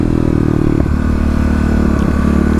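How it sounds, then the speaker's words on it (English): Kawasaki KLX351 motorcycle engine held at wide open throttle, a loud, steady drone with a constant low rumble and little change in pitch, close and continuous throughout. "So, let's go ahead and test wide open throttle here"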